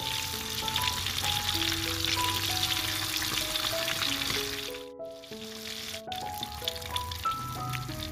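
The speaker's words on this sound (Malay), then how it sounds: "Apabila ikan telah pun garing, bolehlah diterbalikkan dan gorengkan bahagian sebelah lagi." Steady sizzling and crackling of pomfret frying in hot oil, continuous and close, with soft tonal background music playing underneath.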